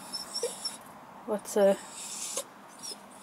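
A dog on an allotment beside a playing field whines excitedly in short, high, quavering bursts, a couple of brief yips followed by a longer whimper near the middle, fairly close against quiet outdoor background.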